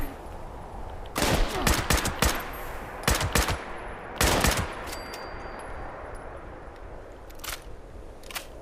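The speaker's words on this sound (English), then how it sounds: "Now he's shooting at me." In Fallout 76 an enemy fires in several rapid bursts of sharp, cracking shots, some close and loud. Quieter gaps separate the bursts and a last faint burst trails off near the end.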